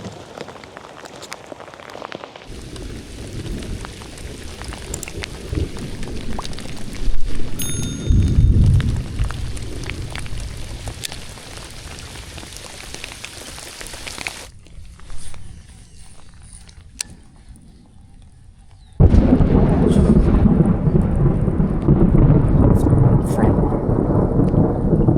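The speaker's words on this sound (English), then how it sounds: "So I think I'm gonna get some thunder here shortly." Outdoor thunderstorm during a fall bass-fishing trip: steady rain hiss and pattering drops with rolling thunder, then a short quieter lull before a loud, close downpour returns at the end.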